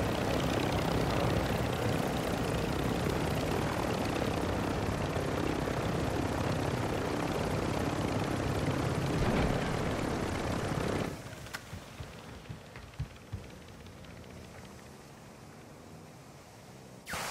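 A helicopter in the video game DMZ roars with a loud, continuous rotor and engine drone for about eleven seconds, then cuts off abruptly, leaving faint clicks and quiet room noise.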